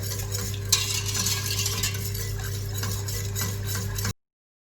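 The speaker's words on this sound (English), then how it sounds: "whisk the milk and the custard together till it's boiling" A whisk stirs milk and custard steadily in a pan as it heats toward boiling, with a continuous scraping, sizzling texture over a low hum, then cuts off abruptly.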